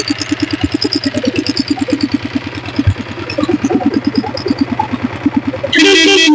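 Company-built diesel motorcycle with self start idling up close, a steady loud chugging thump with even rhythm, ending with a short horn beep.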